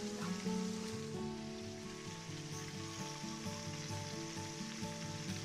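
Pork chops searing in a hot pan, a continuous close sizzle and crackle of fat with an underlying steady tonal hum, loud and unbroken throughout with no talking.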